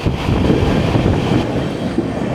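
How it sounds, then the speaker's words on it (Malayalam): The Kannur Jan Shatabdi express rushes past close by near Aluva, a loud, continuous rumble of coaches and wheels on rail, heard from aboard another train with no talk. "ഈ പോകുന്നതാണ് കണ്ണൂർ ജനശതാബ്ദി."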